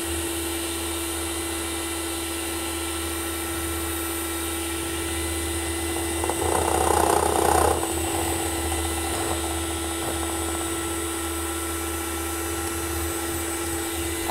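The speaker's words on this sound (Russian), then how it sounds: "на этом этапе мы можем с вами увеличивать скорость нашего миксера" An electric mixer whips a marshmallow mixture for flower-shaped marshmallow cones, a steady close motor whine with a brief louder surge midway as the speed rises.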